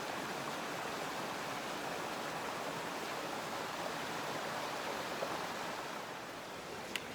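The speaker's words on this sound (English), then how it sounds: "enjoy the sound of the creek" Continuous rushing of a creek on Mount San Jacinto, a steady broadband wash of flowing water, close and even throughout with no voices.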